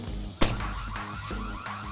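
An alarm in the stealth game Splinter Cell Chaos Theory repeats in short pulsing tones after a sharp impact, cycling steadily at moderate level with game background underneath.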